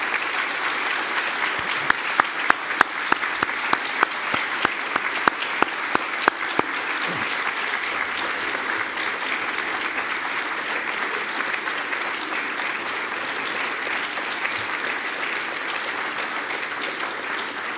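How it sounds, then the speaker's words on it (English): Graduates at an Open University degree ceremony in Dublin applaud their families, friends and supporters: a long, broad wash of hall applause, steady and sustained, with a few sharper individual claps near the start. "could I ask all of our graduates to give your families, friends and supporters a huge round of applause"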